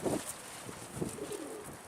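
A pigeon's soft, low cooing repeats a few times against a steady outdoor background hiss, fairly faint and unhurried.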